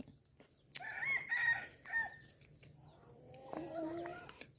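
Chickens and a rooster at a rural spot in the morning crow and cluck, with a crow near the start and more calls later, moderately close against quiet outdoor background.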